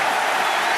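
Crowd applause and cheering fill an arena in the WWE 2K25 wrestling video game, a steady, dense wash of clapping and noise throughout a brief moment, with no clear speech over it.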